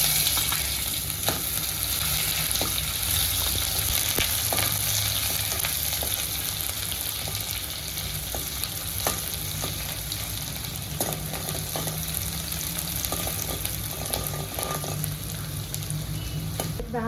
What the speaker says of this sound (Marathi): तडतडलं की त्याच्यामध्ये एक मिडियम साईजचा कांदा आपण कापून टाकणार आहोत